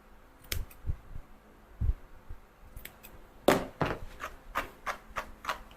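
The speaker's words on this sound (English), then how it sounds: "I'm going to cut through the middle of it so it's not completely shaved." Scissors snipping through a Havanese dog's matted tail hair during grooming, a series of close, crisp cuts spaced irregularly, some in quick pairs, over a quiet room.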